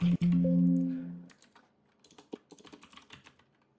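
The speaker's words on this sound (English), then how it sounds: "Now what you want to do is to click Ctrl F or just find it down there and type in" Typing on a computer keyboard, a brief run of close, quick key taps following a short hum that fades out.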